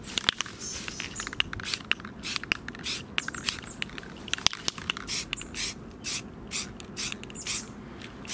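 Short hissing bursts from a spray can coat a Logitech G Pro Wireless gaming mouse, with quick repeated sprays and small clicks and rattles between them, close and fairly quiet.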